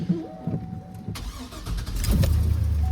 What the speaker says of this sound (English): So come over to my truck. And let's give her a start.